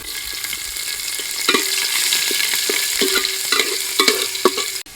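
Chopped ginger, garlic and spring onion sizzle loudly in hot oil, a dense bright crackle punctuated by repeated clinking spatula strokes against the pan, close up, ending abruptly.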